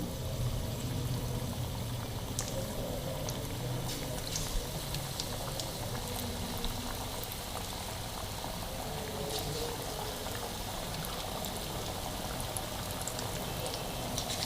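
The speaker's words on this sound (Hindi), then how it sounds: "ऑयल देखिए मेरा गर्म हो चुका है। इसके अंदर हम डालेंगे चिकन।" Chicken pieces frying in hot oil in a kadai, a steady, soft bubbling sizzle that runs unbroken throughout, with no talk.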